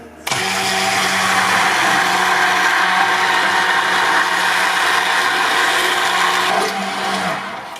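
A handheld stick blender whirs steadily while mixing a homemade natural soap batch, a loud continuous motor drone that starts abruptly and runs unbroken before easing off near the end.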